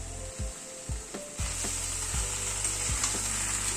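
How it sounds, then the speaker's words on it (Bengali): Spice paste sizzles steadily as it is fried and stirred into a vegetable curry of pumpkin leaves, with a bright continuous hiss punctuated by the soft scrapes and knocks of a stirring spoon, close and without talk. "এবার এই মশলাটাকে তরকারির সাথে একটুখানি কষিয়ে নেব।"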